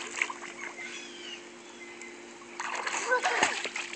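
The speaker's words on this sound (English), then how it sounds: "Do another belly flop" A 3.5-year-old girl belly flops into a backyard swimming pool, making a loud splash and slosh of water about midway, with quieter water movement before it.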